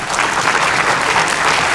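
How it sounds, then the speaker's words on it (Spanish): An audience breaks into strong, steady applause for a speaker at an academic lecture, a dense continuous wash of clapping that holds at the same loudness throughout, with no voices heard. "lo recibimos por favor con un fuerte aplauso."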